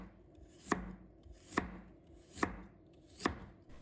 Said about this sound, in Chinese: 再准备一块去皮的生姜， 把它切成片。